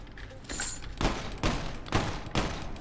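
Rapid bursts of gunfire from a new weapon in the game Immortal Redneck, four or five sharp volleys in quick succession at a steady, fast rhythm, close and loud.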